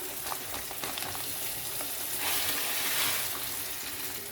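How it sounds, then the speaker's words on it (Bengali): Steady frying sizzle of vermicelli with vegetables in a pan, a dense crackling hiss that swells briefly midway, with no talking. "সিমাইটিকেও একটুখানি ভেজে নিতে হবে"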